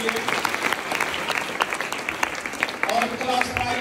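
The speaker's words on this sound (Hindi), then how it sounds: "ताली बजाएं सदस्य के लिए." Audience applause for a class member at a 26 January school function, brisk continuous clapping from a crowd with a voice briefly heard over it.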